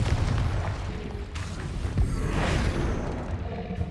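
A Confringo fire spell explodes in Hogwarts Legacy combat, a loud, dense blast with a sharp burst near the middle, set against a constant roar of battle noise.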